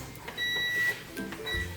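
An electric rice cooker gives a short electronic beep after being plugged in, a faint steady tone over low background noise, followed by a second brief beep.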